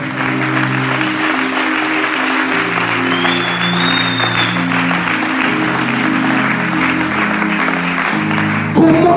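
A congregation at a Christian conference in Congo breaks into sustained applause and cheering, dense and loud, with steady musical tones held underneath and a louder swell at the very end.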